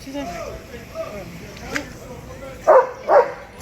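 Two sharp dog barks sound near the end, close and loud, following a stretch of speech in the background.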